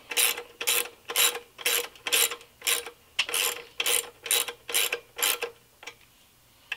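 Bolts being tightened on a GY6 scooter crankshaft stabilizing plate, heard up close as a run of about ten evenly spaced, sharp mechanical ratcheting bursts with no talking.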